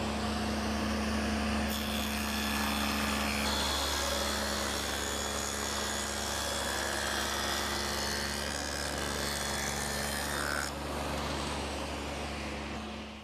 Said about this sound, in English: I've set up the saw with the dado head cutter again